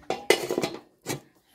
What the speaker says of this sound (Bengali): এখানে আমি কড়াই চুলাত বসিয়ে দিলাম